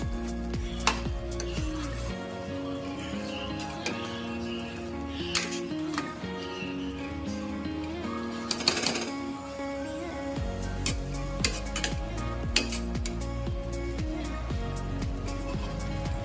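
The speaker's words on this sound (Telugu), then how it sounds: "ఒకసారి మొత్తం కలుపుకుందాం" Mutton kheema pulao with lemon stirred in a pot, with repeated scraping and clinking of a spoon against metal and a soft sizzle underneath, steady and close, with no talking.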